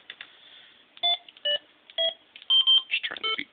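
A Yaesu VX-8R handheld radio plays a quick series of DTMF dialing beeps, six or seven clear tones spaced unevenly, close and fairly loud over a soft hiss.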